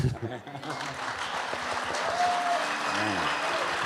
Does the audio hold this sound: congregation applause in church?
yes